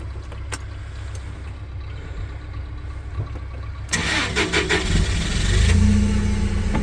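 A Toyota 02-8FGF20 gas-powered forklift cranks with a few quiet clicks, then its engine catches with a sudden burst and settles into a rough mid-pitched idle that swells slightly as it revs, loud and close with no talking.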